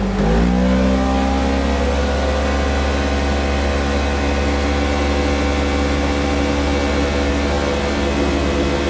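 Polaris General XP side-by-side with tuned clutching on 32-inch tires, its engine climbing quickly in the first second then holding a loud, sustained high-rev drone, heard from close inside the cab.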